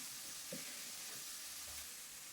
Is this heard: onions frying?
yes